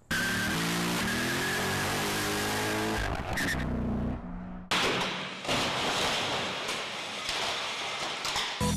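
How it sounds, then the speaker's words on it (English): A race car accelerates at high speed, its engine revving loud and close with rising tones, tire squeal and skidding, then a sharp cut into a roaring, noisy rush. "It's impressive how fast the car can accelerate and its top speed and everything"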